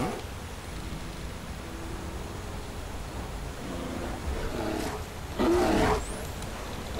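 A bear in the fantasy game Enderal lets out a loud, rough roar that swells near the end, over a constant background hiss of game ambience.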